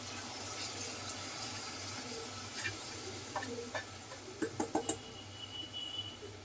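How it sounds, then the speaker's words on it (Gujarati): Water is poured into a vessel to wash khichdi rice, giving quiet trickling and a cluster of sharp splashes and clinks near the end over a steady low hum. "હવે ખીચડી ધોઈ નાખો. ઓલામાં પાણી નાખી દો ને."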